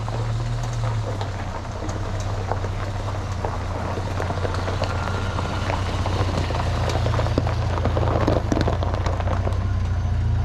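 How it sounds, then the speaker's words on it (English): Pressure washer blasting years of built-up dirt off a 1989 Jeep Wagoneer farm find, a constant loud hissing spray over a steady low motor drone, continuous and close throughout. "I think my pressure washer is pretty good"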